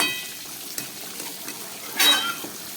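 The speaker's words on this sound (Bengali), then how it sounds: "এখন আর ঢাকা না দিয়ে খানিক্ষণ আমি ভালো করে কষিয়ে নেব" Onions sauté in a pan for chicken curry, a soft steady sizzle with light scraping strokes of a spatula and one louder scrape near the end.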